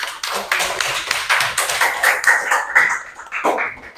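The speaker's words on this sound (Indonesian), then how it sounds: "tepuk tangan untuk Dode Rama" A classroom full of people claps together, a steady patter of many hands lasting several seconds, close and lively.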